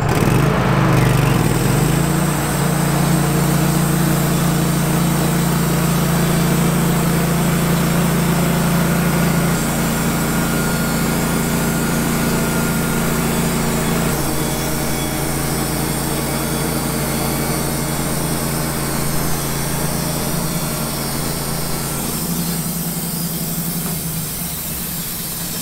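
A mobile sawmill cuts through a tapered homegrown log, its engine roaring loud and close with a steady high whine and hiss that shifts pitch partway through the pass and keeps going throughout.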